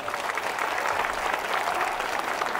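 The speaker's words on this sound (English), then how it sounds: "A nice round of applause for her." Crowd at a gun safety advocacy event in Tulsa gives a round of applause, a steady, moderately loud patter of many hands clapping together with no speech over it.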